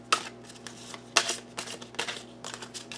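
Tarot cards are shuffled by hand in several quick riffling bursts, soft and close, with short pauses between them.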